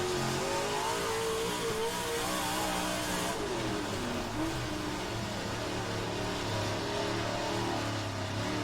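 Stock race cars in the rFactor 2 racing game roar around the track, a continuous droning engine note with shifting revs as several cars pass, steady and fairly loud throughout with no talk.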